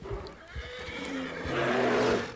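A frightened horse lets out a whinny that rises and swells toward the end, over faint hoof thuds and outdoor noise. The call is moderately close and no one speaks.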